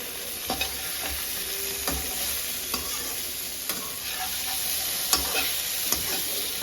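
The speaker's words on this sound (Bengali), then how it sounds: "আচ্ছা এবারে এটাকে লাড়বো" Eggplant fries in a pan with a steady sizzle as a spatula stirs it, giving soft clinks and scrapes at irregular intervals. It sounds close and moderately quiet, with no talking.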